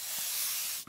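Spray bottle misting yellow ink onto plastic for a junk journal grunge effect: one close, soft, steady hiss lasting about a second, ending with a faint click.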